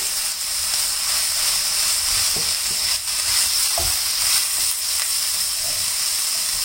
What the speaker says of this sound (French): Et maintenant, je rajoute la viande hachée.